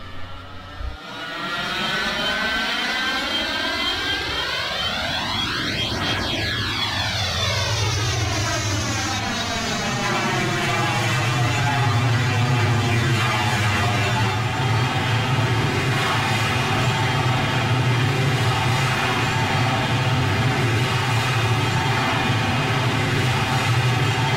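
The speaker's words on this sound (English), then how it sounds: "After you take a look at this takeoff sequence, I'll show you some of the other features of this add-on." An MD-81 jetliner spools up for takeoff in a flight simulator, a loud sustained jet roar with whining tones that sweep and climb steadily, then a steady powerful drone as it accelerates.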